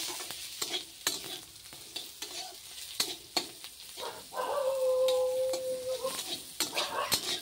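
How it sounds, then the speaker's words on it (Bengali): Bitter gourd frying with onion and green chili in a pan, a steady sizzle with repeated sharp scrapes and clinks of stirring, a brief tonal whine midway. "করলা ভাজা করছি পেঁয়াজ দিয়ে, পেঁয়াজ আর কাঁচা লঙ্কা দিয়ে করলা ভাজা করছি"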